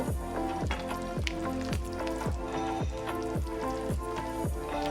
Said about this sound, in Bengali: আমি মাংসটা একটু নেড়ে দেব